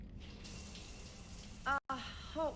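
Steady hiss of a shower running in the Mass Effect 3 video game, a continuous broadband wash of falling water that fills the whole stretch, with a voice speaking briefly over it near the end.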